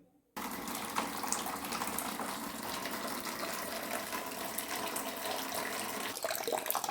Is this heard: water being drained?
yes